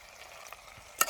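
Spices are stirred into food frying in a pan in a jungle outdoor cooking setting, with a quiet sizzle and a sharp scraping stir near the end, no voices.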